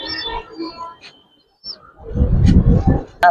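Giribaj and coloured pigeons at a pigeon farm give a few soft coos and chirps, mixed with people talking nearby, followed by a louder burst of fluttering or shuffling movement near the end.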